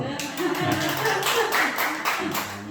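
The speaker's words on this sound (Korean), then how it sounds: "박수 한번 치세요." A church congregation claps during a Friday night prayer service, a steady burst of many hands beating together, fairly close and lasting a few seconds.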